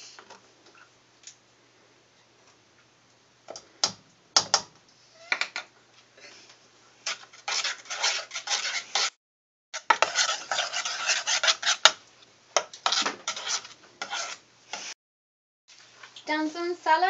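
Flour being stirred into a chocolate mixture in a bowl, heard as scattered clinks and scraping strokes of utensil against dish, coming in irregular bursts with brief pauses and a few faint voices.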